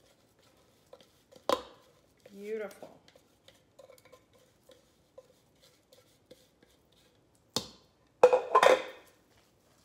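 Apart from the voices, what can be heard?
scraping mixture out of a blender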